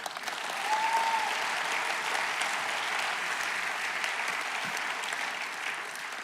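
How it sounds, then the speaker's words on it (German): Audience applause fills a church service at ICF Zürich, a dense, steady wash of many hands clapping that holds evenly from start to finish with little variation. "ja, Applaus."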